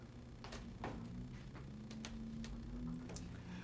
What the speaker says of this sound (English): Sorry, my fridge was making some ticking noise.